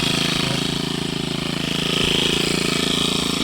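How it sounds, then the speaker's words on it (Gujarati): A small petrol water pump engine runs steadily nearby on a farm, a loud, even mechanical drone with a rapid pulsing rhythm and no talking. "પેટ્રોલ પંપ ચાલુ કરી લીધો"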